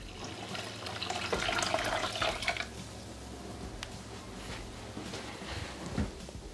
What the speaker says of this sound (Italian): Aggiungere alla salsa l'acqua, che deve essere calda.